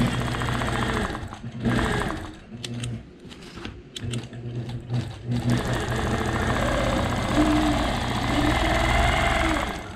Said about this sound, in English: I'm going to stitch on either side of it.